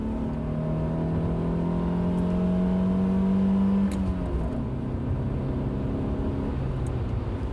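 Mercedes W124 200E pulling away from a standstill on a test track, a steady engine drone rising in pitch through the gears, heard from inside the car with a gear change about halfway through.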